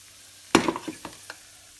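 Flour is stirred in a pan while browning for gravy: one sharp scrape or knock, then a few softer scraping strokes that fade, close and fairly quiet, with no talking.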